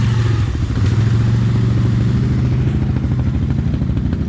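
A Gen 1 500cc Can-Am ATV engine rumbles close and loud in a steady, pulsing low throb that runs unbroken, with a faint rattle riding on it.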